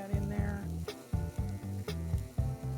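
Lentils, about three-quarters of a cup, go into a hot pan and sizzle, with rhythmic scraping and stirring pulses close by and no talking.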